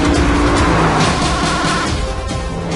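Car driven hard on a racetrack during 2015 Motor Trend Best Driver's Car testing, its engine roaring loud and close with steady gear-laden revving and tire noise, no talk.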